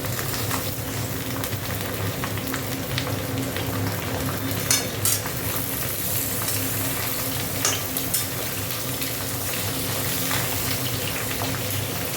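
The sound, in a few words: ridge gourd frying with fried potatoes in pan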